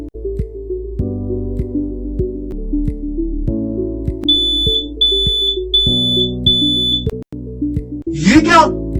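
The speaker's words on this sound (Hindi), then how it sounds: "अलार्म बजने लगा।" A high electronic alarm beeps in five evenly spaced pulses over background music and a sweeping synthetic tone.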